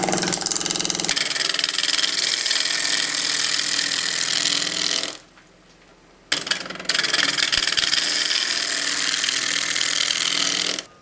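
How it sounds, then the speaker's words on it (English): Bowl gouge cutting a wooden bowl blank on a lathe, a loud continuous scraping hiss over the motor's hum, breaking off for about a second before the cut resumes. "Now I can take this bowl gouge, put it on the tool rest, and then just move it past the wood very slowly."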